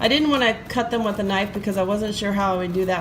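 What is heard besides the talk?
No everyday noises stand out.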